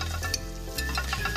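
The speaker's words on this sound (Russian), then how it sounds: "Притушим наши овощи." Vegetables stewing in a hot frying pan give a steady sizzle and crackle, close and moderate in level, with a few brief clinks and stirring noises on top and no talking.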